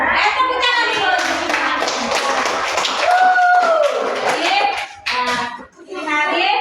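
Schoolchildren in a classroom clap their hands together in a sustained burst, with a teacher's voice and children's voices talking over much of it.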